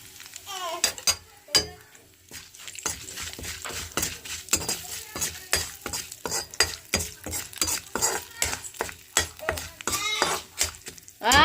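Curry leaves dropped into hot tempering oil with seasoning seeds, crackling softly while a spoon clatters and scrapes against the pan in quick, uneven strokes close by.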